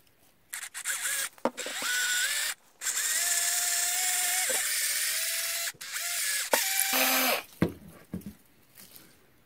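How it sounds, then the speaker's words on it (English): A power drill bores a cavity into a misshapen, slightly crooked corn cob. It comes in several close, loud whining bursts of varying length, with short pauses between them. "this would be a good one to start test drilling on"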